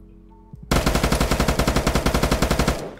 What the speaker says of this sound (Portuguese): Você tá atirando onde?